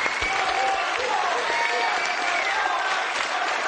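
A studio audience on a late-night talk show claps and cheers for Ron Paul in a dense, sustained burst of applause, with a few voices calling out beneath it.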